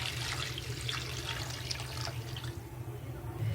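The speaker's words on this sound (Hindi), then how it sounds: "अब हम इसमें इतना पानी डालेंगे ताकि ये कैरियां अच्छे से डिप हो जाएं।" Water pours into a wok over cut raw mangoes for mango murabba, a steady splashing stream that runs for about two and a half seconds and then gives way to quieter kitchen noise.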